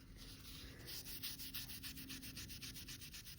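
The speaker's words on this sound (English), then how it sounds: "I'd take my wet piece of wire wool, and anywhere you've got heavy dirt build up like there, I just go a bit heavier with the wire wool." Wet wire wool is rubbed over an old wooden plane, making soft, close scrubbing strokes in a quick, even rhythm, heavier over patches of built-up dirt, with no voices.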